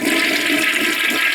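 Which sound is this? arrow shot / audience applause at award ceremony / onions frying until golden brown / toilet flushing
toilet flushing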